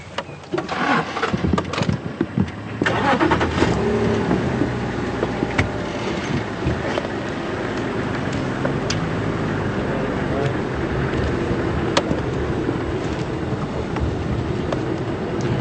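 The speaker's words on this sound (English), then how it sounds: "before we start up the engine" Engine of a safari game drive vehicle at Djuma Game Reserve starting up and driving off, a steady close mechanical rumble with clunks and rattles, with faint talk in the background.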